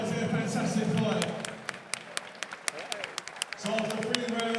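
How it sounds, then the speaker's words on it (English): An arena crowd applauding both fighters after a boxing match, a dense wash of claps that thins into scattered individual claps before swelling again, with an announcer speaking over it. "Ladies and gentlemen, big round of applause for both fighters here."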